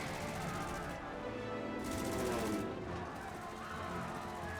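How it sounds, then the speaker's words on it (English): Cannons boom in Final Fantasy XIV's Stormblood battle for Doma, heavy repeated blasts layered under a dense battle din and music, with a couple of sharp bursts standing out through the mix. "All cannons resume firing!"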